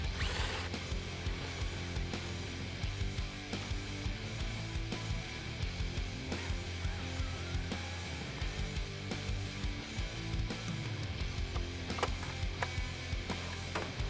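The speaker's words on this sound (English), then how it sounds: "with the use of a 3/16 socket, we're going to go ahead and just remove the 2 bolts that connect this to our firewall." Ratchet fitted with a 3/16 socket removing two bolts from the firewall of a Mustang 5.0L, giving steady close mechanical clicking and metallic working noise through the whole stretch, with no talking.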